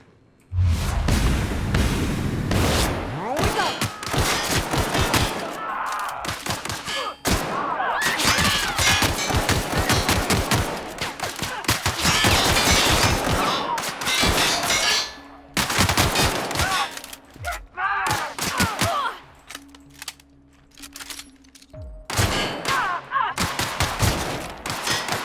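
Bursts of sniper rifle and other gunfire in the sci-fi game The Outer Worlds, with repeated sharp shots and rapid volleys cutting in and out over about twenty-five seconds, some gaps of near silence and faint voices mixed in.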